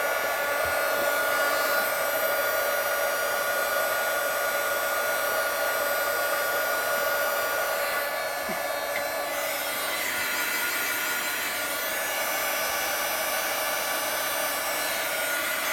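A heat tool blows hot air over bubble wrap, producing a continuous close whooshing roar that holds steady throughout and eases slightly partway through, with no talk.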